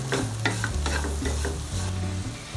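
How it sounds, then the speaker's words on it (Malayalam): Chicken masala with capsicum and onion frying in oil, spatula strokes stirring the pan repeatedly over a steady sizzle, close and fairly loud, with no talking. "ഈ ചിക്കൻ്റെ ആ അരപ്പിൽ ഇതെല്ലാം ഒന്ന് ആ എണ്ണയിൽ കിടന്ന് ഇതെല്ലാം ഒന്ന് ഫ്രൈ ആയി വരണം"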